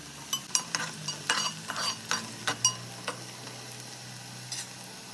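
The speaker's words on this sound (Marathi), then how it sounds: "कांदा आपल्याला चांगला लाल करायचा आहे" Onions fry in a pan for a mutton masala, a soft continuous sizzle under a run of sharp spatula scrapes and taps in quick clusters, close and moderately quiet, fading to gentle frying near the end.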